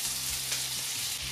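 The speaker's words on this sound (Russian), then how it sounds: "Друзья, в эту сковородку я кладу сливочное масло." Butter sizzles and fries in a hot frying pan that already holds onions, a steady crackling hiss close by with no talk over it.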